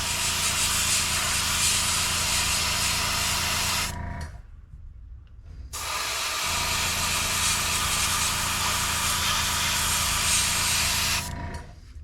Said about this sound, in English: I'm trying to paint the stencil. With the overspray, we'll go up on the lid.